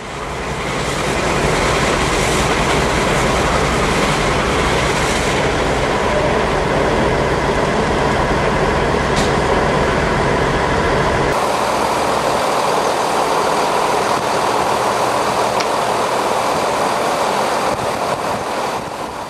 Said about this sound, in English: we see the surreal experience of a Class 52 Western on the blocks at Inverness